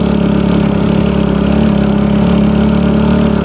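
A motorcycle engine runs steadily while riding at night along a rough, semi off-road cast-concrete road in southern Malang, a continuous close drone with no talking.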